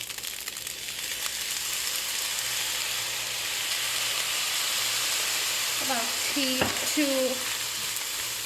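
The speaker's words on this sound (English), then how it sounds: "go ahead and add in some of your soy sauce" Vegetarian fried rice sizzles steadily in a hot pan as soy sauce goes in, a soft even hiss with a few brief metallic scrapes of a utensil near the end.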